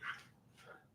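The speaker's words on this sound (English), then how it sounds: "If you hear a dog outside, that's not my dog." A single short dog bark or yip, faint and distant, followed by a softer second yelp.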